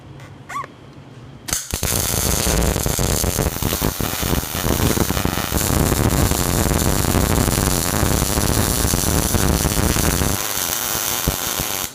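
Welding on a Cub Cadet garden tractor frame, a loud, steady crackling buzz that starts abruptly after a quiet moment and runs continuously for about nine seconds before cutting off.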